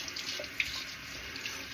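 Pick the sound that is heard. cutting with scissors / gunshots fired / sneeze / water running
water running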